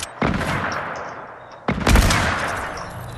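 Two loud hunting rifle shots in a video game, the first followed by a long echoing tail and the second, heavier one ringing out with a booming decay.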